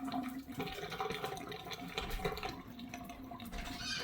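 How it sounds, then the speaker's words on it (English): Boiled potatoes are drained into a colander, a steady, faint rush of pouring water and splashing that runs unbroken for a few seconds. "You're gonna strain them into a colander, strainer, whatever you wanna call it."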